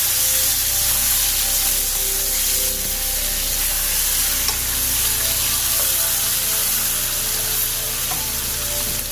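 Chicken wings fry in oil for a Jamaican-style curry, making a dense, steady sizzle with a low hum underneath and no talking.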